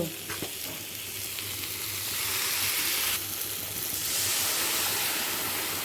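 Pointed gourd frying in a pan as ground poppy seed paste goes in makes a loud, close sizzle that swells into a stronger hiss partway through and then keeps going with no talking.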